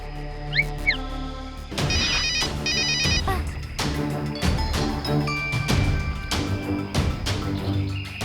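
In an animated cartoon, a phone ringtone chirps briefly, then a loud musical ringtone with banging hits plays on, bright and repetitive.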